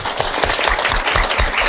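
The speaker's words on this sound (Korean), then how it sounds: "박수 한번 드리겠습니다." Audience claps together in a short, loud burst of applause, rhythmic hand claps close and steady throughout.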